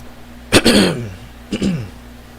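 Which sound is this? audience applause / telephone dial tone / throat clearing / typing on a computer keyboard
throat clearing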